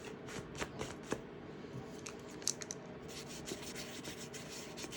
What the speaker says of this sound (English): get a little tiny bit of saddle soap on my fingers when the paper's new. Rub it into your paper.